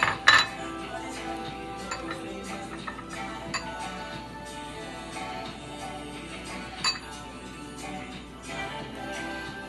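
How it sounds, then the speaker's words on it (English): Spoon clinking against a dish while parsley and lime juice are stirred hard, with scattered light metallic taps and scrapes repeating through the mix, close and fairly quiet. "And you stir really hard, like mix it up."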